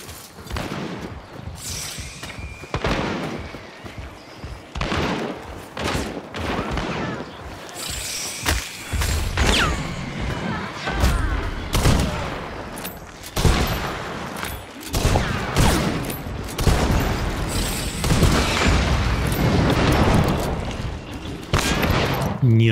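Heavy gunfire with explosive rounds in the video game Hunt: Showdown crackles in dense bursts with explosive impacts and booms, nearly continuous and loud, while a voice talks over it.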